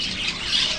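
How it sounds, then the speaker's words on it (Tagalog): Pet birds on a rooftop giving bright, scratchy squawks and chirps that overlap in a busy, continuous chatter at close range. "Ayan yung mga alaga kong ibon"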